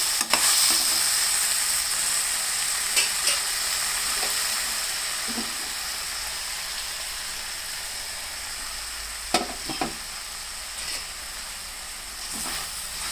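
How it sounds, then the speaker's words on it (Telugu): Cabbage with ginger, garlic and chili powder sizzles in a frying pan, a constant bright hiss broken by several soft scraping stirs of a spatula, with no voices. "కారం వేసుకున్నాక కూడా అట్లా తిప్పుకోవాలి"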